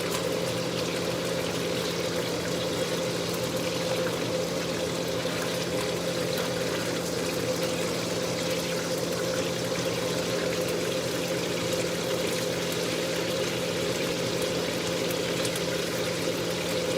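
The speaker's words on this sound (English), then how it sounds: "A whole lot of beer in there, just a little bit to coat the bottom of your pan" Beer poured steadily into a frying pan to coat the bottom before cooking bacon, a continuous close liquid splash and trickle with a constant hum underneath, no talking.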